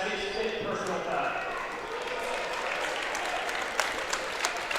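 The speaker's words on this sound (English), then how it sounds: "So Grant gets a round of applause" A high school basketball crowd at an IHSAA boys game between Noblesville and Fort Wayne South Side applauds as player Grant Bullard fouls out. The clapping is sustained and loud, with a commentator talking over it.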